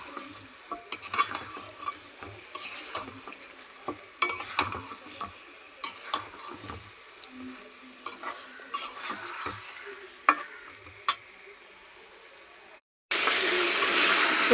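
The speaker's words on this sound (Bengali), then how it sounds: "এই যে মুরগির গোস্ত দিয়ে আর আলু দিয়ে আমি ভালো করে কষাই নিছি" Chicken and potatoes sauté in a pan with a steady sizzle and frequent stirring scrapes and clinks. A short gap near the end gives way to a louder, continuous hiss.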